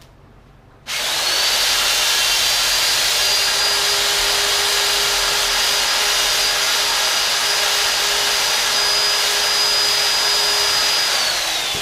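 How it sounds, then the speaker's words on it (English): A drill bit cuts steadily into a mannequin nose while mounting a deer, a loud continuous high whine that starts abruptly and holds even for about eleven seconds, with no talking. "You gotta be careful with the drill bit though"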